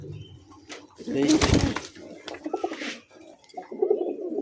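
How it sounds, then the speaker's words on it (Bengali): A Nepali high-flyer pigeon coos in bursts, with flapping and scuffling around it, while people talk nearby. "নেপালি একটা হাইফ্লার কবুতর"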